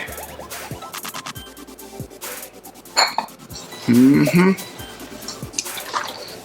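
Meatball mixture with egg being worked in a bowl gives wet squelching, dripping and scraping sounds with occasional clinks against the bowl, and a voice talks over part of it.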